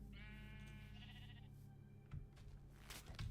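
A single Minecraft sheep gives a clear wavering bleat up close, followed by faint background clatter, with no talking.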